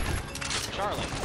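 Rapid gunfire in the Binary Domain video game, with dense crackling shots firing in bursts down a long corridor and overlapping voices talking.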